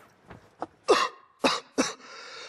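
A person in a comedy sketch coughs, with a few small throat sounds leading into three sharp, close coughs in quick succession and no talking.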